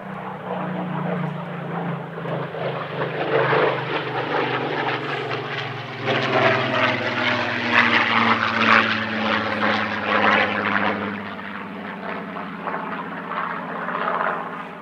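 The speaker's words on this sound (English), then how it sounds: "Up now, the Rolls-Royce Heritage Flight with their Spitfire PR-19." Rolls-Royce Heritage Flight Spitfire PR-19 propeller fighter flying a display at an air festival, a steady loud piston-engine drone with rising and falling pitch as it passes, continuous throughout with no voices.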